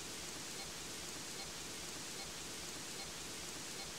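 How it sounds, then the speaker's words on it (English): Rain falls outside in a cartoon scene, a steady, even hiss of fairly soft level that fills the whole stretch without pauses or voices. "raining today, so Peppa and George cannot play outside."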